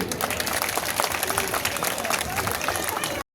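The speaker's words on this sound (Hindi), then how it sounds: "तो एक बार संजीव भैया के लिए जबरदस्त ताली ठोकिए।" A crowd at a BJP election rally in Bihar claps loudly and densely for about three seconds, a sustained burst of applause that cuts off abruptly.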